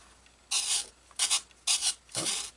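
Sandpaper rubbing a hinge slot on a model airplane, four short raspy strokes close up and fairly quiet, each lasting under half a second with brief pauses between.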